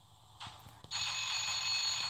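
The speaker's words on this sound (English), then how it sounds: "Oh, someone's calling. Did you guys hear that?" A telephone rings in the video game Crossy Road, a bright electronic trill that starts abruptly and continues steadily and loudly after a brief click.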